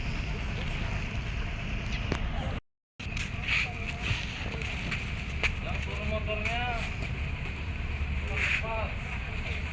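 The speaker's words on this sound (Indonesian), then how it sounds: "di depan kita ini kapal yang berangkat" The river taxi Berkat Hikmah A10 departs from Sungai Kunjang port, its engine droning steadily under wind noise and someone talking, with a brief silent gap partway through.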